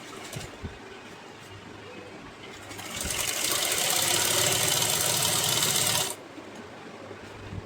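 A sewing machine stitches a fabric strip for a small Laddu Gopal dress, running in one continuous whirring burst of about three seconds between quieter stretches with faint clicks.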